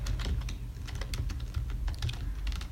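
Rapid clicking keystrokes on a computer keyboard as a command is entered, a steady close run of light taps with short pauses and no voice.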